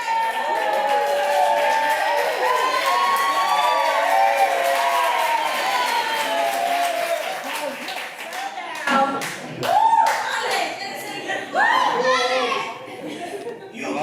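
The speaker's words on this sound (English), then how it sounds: "Give Alex a round of applause." Wedding guests at a reception at The Addison of Boca Raton applaud and cheer for the bride's brother. A long crowd roar with excited voices and whoops gives way to scattered clapping and bursts of cheering.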